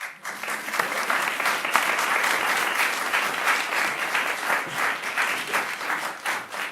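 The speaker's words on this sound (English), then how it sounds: "So applause." A festival audience breaks into full, continuous applause, a loud wash of many clapping hands that swells and holds steady throughout with no talking on top.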